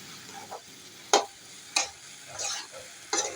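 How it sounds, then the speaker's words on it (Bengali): Pointed gourd (potol) being stirred as it fries in a pan, with a handful of separate scraping strokes of a spoon over a faint background sizzle. "আমি পটলগুলিকে নেড়ে চেড়ে"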